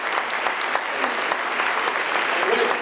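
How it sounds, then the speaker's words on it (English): Steady applause from an audience honoring students at a 2020 awards ceremony in Alabama, dense continuous clapping with no break across the short stretch. "Can we give a round of applause to all of our awesome students?"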